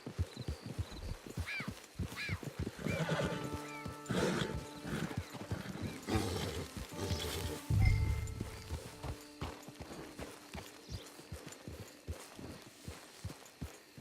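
Steady clip-clop of horse hooves walking, with a horse whinnying clearly partway through over a soft ambient background, in the video game Red Dead Redemption 2 Online.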